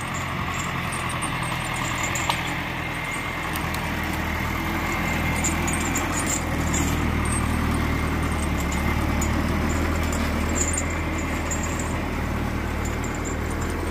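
A logging machine's engine runs smoothly after a fuel treatment, holding a steady, continuous low rumble at a constant level throughout, with no voices.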